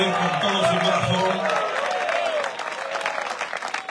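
A church congregation at an evangelistic service applauds, sustained clapping from many hands filling the room with a few voices mixed in, then slowly thinning out toward the end.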